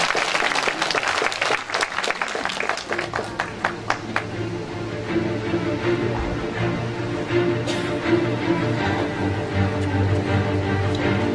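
An audience at a patriotic poetry-recital concert applauds, starting with loud, sharp individual claps that quickly blend into sustained, dense applause lasting several seconds.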